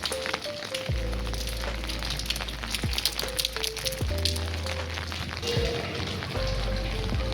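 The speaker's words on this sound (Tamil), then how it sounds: "ஆனால் போகிற வழியில் ஃபுல்லாக மழை." Steady rain falls along the way to a Da Vinci museum, giving a constant hiss. Low tonal engine sounds rise and fall over it, probably from vehicles passing nearby.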